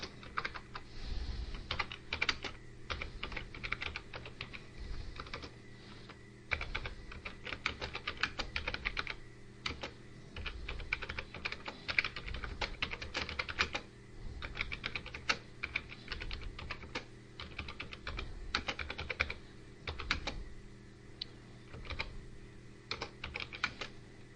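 Typing on a computer keyboard while composing a write-up: quick, uneven runs of clicky keystrokes broken by short pauses, close and steady, with no voices.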